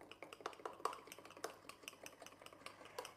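A spoon clinks quickly and repeatedly against a bowl as lemon juice and icing sugar are stirred into a syrup, a close, brisk rhythm of light taps with no voices.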